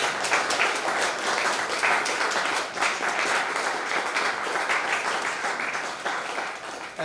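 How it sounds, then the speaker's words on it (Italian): Applause from a concert audience honoring a family of musicians, dense sustained clapping from many hands at close range for about seven seconds, with a faint voice underneath. "Quindi io farei l'ultimo applauso a loro e poi cominciamo."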